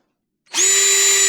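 A power drill with a bigger bit starts after a moment of silence and then whines loudly and steadily while drilling holes in a boat's bow panel cover.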